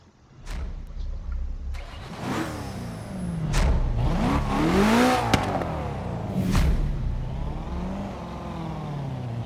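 A BMW engine in Forza Horizon 3 starts up and revs hard, climbing through several rising and falling gear sweeps with a whooshing rush, loud and close and steady for several seconds.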